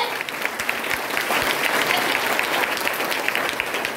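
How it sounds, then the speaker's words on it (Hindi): Audience at a network marketing gathering claps steadily and loudly for a speaker being honoured, a full, continuous burst of applause without talk. "मिस्टर टीपी सर के लिए एक बार जोरदार तालियां, जोरदार तालियां"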